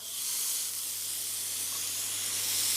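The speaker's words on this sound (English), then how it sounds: "Just lay them on the grill" Burgers sizzling on a hot grill pan, a steady, bright hiss that swells as the patties land, continuous and close, with no talking.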